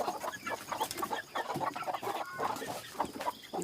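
A hen clucks repeatedly in short, irregular bursts amid busy rustling farmyard noise during rural morning chores feeding the animals.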